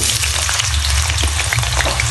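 Cut potatoes fry in mustard oil in a wok, giving a dense, steady sizzle with crackling pops throughout, close and loud with no talking.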